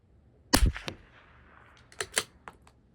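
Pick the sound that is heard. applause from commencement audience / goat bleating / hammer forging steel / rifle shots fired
rifle shots fired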